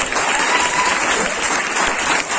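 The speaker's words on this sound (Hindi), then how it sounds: "जोरदार तालियों के साथ" Loud, dense applause from a conference audience in a hall, steady and continuous throughout the short burst, with no voices standing out.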